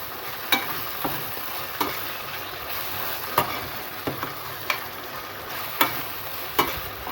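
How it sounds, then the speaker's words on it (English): Grated tomato stirred in a hot pan while making pasta, a steady soft sizzle with a spoon scraping and tapping the pan every second or so, no talk. "One grated tomato. You add it in there. Give this a good stir."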